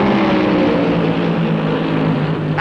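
Stock cars race at Darlington Raceway in the 1972 Southern 500, a loud, continuous engine roar from cars running close together, with a slight shift in tone at the very end.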